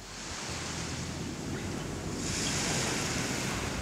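Ocean waves breaking at a surf spot in Madagascar, a steady broadband wash of surf with wind buffeting the microphone, swelling louder partway through and heard alone without voices.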